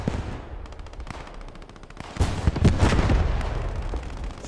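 Cannons pounding infantry in the WWII shooter Post Scriptum, with rapid machine-gun bursts and heavy booming blasts layered into a dense, loud battle din that swells partway through.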